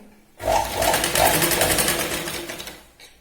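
A sewing machine stitching a line on a katori blouse sleeve, a close, loud rapid whirring burst of about three seconds that winds down, with no talking.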